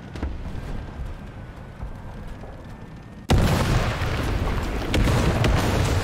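A tank cannon shot and explosion in the War Thunder video game, an abrupt loud boom that jumps in and stays as a dense roaring rumble after a quieter stretch of low engine noise.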